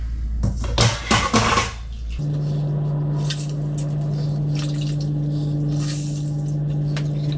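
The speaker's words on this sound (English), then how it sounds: "First we're going to squeeze out the water." Soaked shiitake mushrooms are squeezed by hand, giving a few wet squishes and drips up close, then a steady quiet kitchen hum with faint handling noises.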